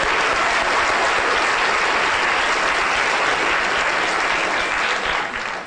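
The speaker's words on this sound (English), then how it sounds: "Let's give a round of applause to Charlotte." A lecture audience claps warmly and steadily, a dense, even wash of applause that carries on throughout and eases slightly at the very end; no speech over it.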